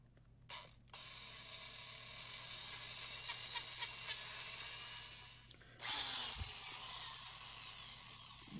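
A power drill bores out a stripped bolt hole for a Heli-Coil thread insert on an Impala 3400 engine, giving a steady, close mechanical whir that runs for several seconds before the tone shifts near the end.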